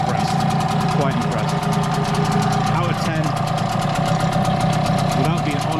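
A Hangkai 6hp two-stroke outboard motor runs steadily in a water test tank, a close, buzzing idle with a rapid even pulse, while someone talks over it.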